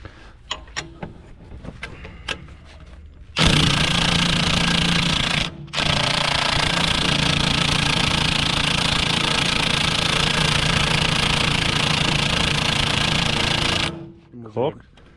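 A cordless impact wrench hammers steadily at stuck 24 mm bolts on an IHC 844 tractor, one long loud burst with a short break, preceded by lighter tapping and someone speaking.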